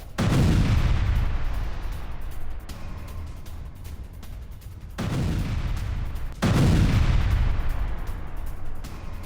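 A drone strike destroys a Russian BMP-3 vehicle in a series of heavy, booming blasts, with two big swells of rumbling explosion noise and sharp cracks and pops between them, loud and continuous with no voices.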